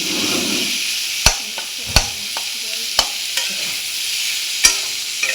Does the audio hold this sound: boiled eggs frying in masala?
yes